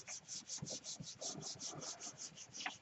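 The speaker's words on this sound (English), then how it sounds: "And I'm rubbing it in pretty good." Hands rub paper firmly onto a gel plate for a print transfer, a close, rhythmic scratchy swishing repeated about a dozen times in quick even strokes, with no one speaking.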